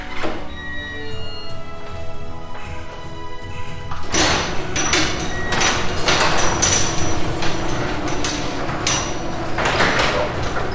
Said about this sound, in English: We have the garage door opening here, man.